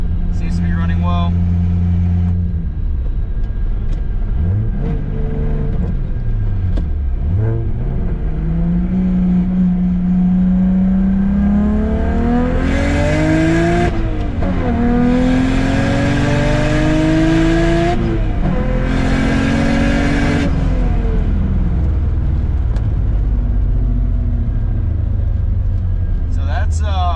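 Engine of a BMW E90 with the N54 engine converted to a single turbo as a drift car, running loud and close. Its pitch climbs and falls over repeated revs, with a few sharp hissing bursts, and speech can be heard over it.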